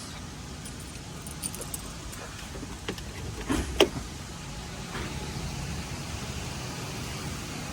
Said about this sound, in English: I'm gonna grab the keys, pop the trunk and the hood for us.